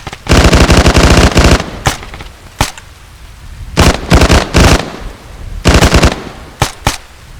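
Machine gun fire from the Arma 3 military game comes in loud rapid bursts, several long rattling strings split by single sharp shots and short pauses, repeating across the stretch.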